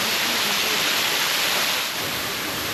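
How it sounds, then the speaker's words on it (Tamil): Water pouring down a clear-water waterfall on a hill trip in Valparai, a steady, loud, broadband roar that fills the whole clip without any voices. "பார்த்தீங்களா ஃபால்ஸ் எப்படி இருக்குன்னு?"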